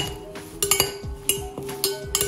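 Salad of parsley and coriander, seasoned with salt and pepper, tossed with utensils in a bowl: a quick series of close metallic clinks and scrapes, several sharp taps in a loose rhythm.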